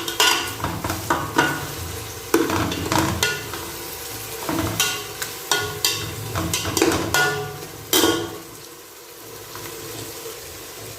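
Mutton and spices fry and get stirred in a pan, giving bursts of sizzling with scraping strokes in an uneven rhythm, close and moderately loud, easing off near the end.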